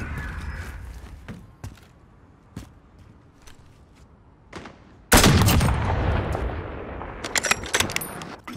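Sniper rifle shots ring out in a 12v12 search and destroy video game match, with several sharp, isolated cracks followed by a burst of heavy, dense gunfire and explosion-like noise.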